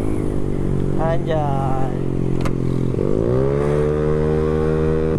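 A Honda Beat 115cc scooter with a racing exhaust revs hard, its loud buzzing note climbing, dropping and climbing again in close, steady surges, while a voice briefly exclaims over it.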